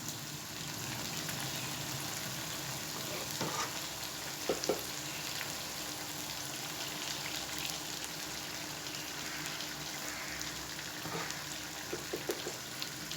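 Masala for chicken karahi fries in a pan with a constant, moderately loud sizzle, punctuated by a few light clinks of a spoon while it is stirred.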